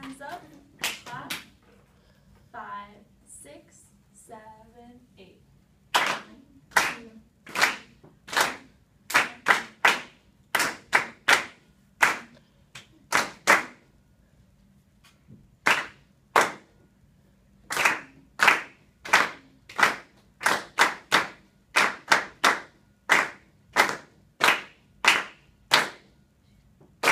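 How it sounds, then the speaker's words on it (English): A group of people in a room claps in unison, first a few loose claps beneath brief talk, then a long run of crisp, loud, evenly spaced claps in a steady beat, occasionally doubling up. "Everyone get your hands up. Clap."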